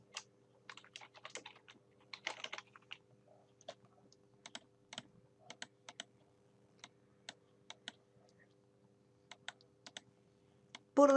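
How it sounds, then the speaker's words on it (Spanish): Keys on a computer keyboard are typed with sparse, faint clicks in short clusters and scattered single taps, and a brief voice comes in at the end. "Hacemos un clic y se puede seguir escribiendo."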